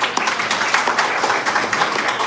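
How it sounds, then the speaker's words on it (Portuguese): An audience applauds two visual artists at an art exhibition event, a dense, loud wash of many hands clapping continuously for a couple of seconds. "Uma salva de palmas."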